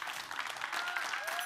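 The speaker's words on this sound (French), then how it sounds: "je pense que vous pouvez quand même applaudir mes élèves, là." Audience at a college talent show applauding first-year students, a brief dense burst of clapping with faint voices mixed in.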